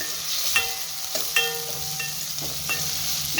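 Mustard seeds, fenugreek, green chili, curry leaves and small shallots fry in hot oil for fish curry, crackling and popping with sharp spits over a constant soft sizzle and occasional stirring scrapes.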